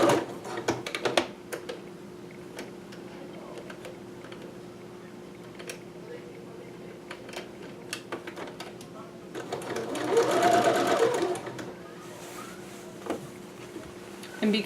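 Sewing machine stitching a McCalls 6701 dress, with a rapid mechanical whir in short bursts and a longer steady run, heard close and under a person talking.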